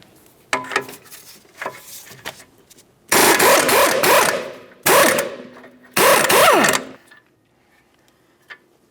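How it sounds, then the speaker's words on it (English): A 21mm wrench breaking free the tie rod nut on a 2011-2019 Ford Explorer, with a few faint clicks followed by three loud, sustained whirring bursts of about a second each, close by. "We'll use our 21mm wrench, get onto this, and try to turn it clockwise to break it free"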